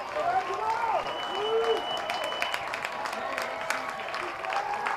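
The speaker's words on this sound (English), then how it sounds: "The crowd on their feet here at Ray Fisher Stadium" A baseball crowd at Ray Fisher Stadium applauds and cheers on its feet, a steady wash of clapping running throughout while a commentator talks over it.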